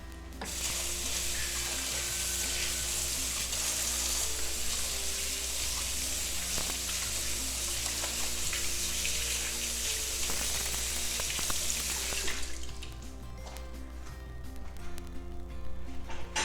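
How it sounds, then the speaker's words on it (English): A kitchen tap runs steadily while hands are washed, giving a broad continuous hiss with faint splashes that ends sharply near the close and leaves a quieter room with light clatter. "I wash my hands."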